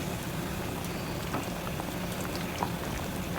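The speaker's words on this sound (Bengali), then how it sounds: "এখানে ইলিশ মাছ দিয়ে সিমের বিচি দিয়ে রান্না করছি।" Hilsa fish curry with bean seeds, red radish and fish head and tail simmers in a pot, giving a steady close bubbling with small pops and no voices.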